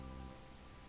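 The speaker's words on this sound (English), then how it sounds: "So this is Hail." Hail weather effect in the Pokemon Pearl video game: a steady, dense hiss of falling ice pellets with a low rumbling bed underneath, continuous and even for the whole second, with no voices.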